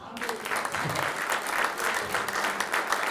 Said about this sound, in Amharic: እስቲ ለጌታ አጨብጭቡለት